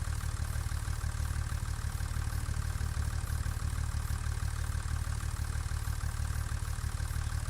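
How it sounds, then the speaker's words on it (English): A small 3650 tractor in a Farming Simulator game idles with a steady, close, low chugging rumble that pulses evenly throughout. No one speaks. "I like this little tractor. It actually sounds like a tractor."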